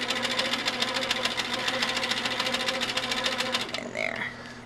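A sewing machine stitches a quilt block for a Brooklyn brown cornerstones quilt, running a steady, rapid mechanical rhythm at close range for about four seconds before stopping, with a brief faint tail of noise after.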